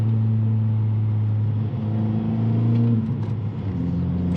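A rebuilt Honda Civic Type R FK8 cruises with a steady, loud engine hum and road rumble from inside the cabin, holding an even tone throughout with no talk.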